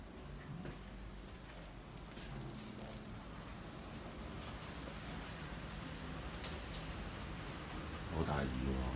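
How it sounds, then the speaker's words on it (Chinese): Heavy rain falls outside a seaside hotel in Shenzhen, a steady dense hiss that runs throughout, distant and even, with a brief voice near the end. "好大雨喎"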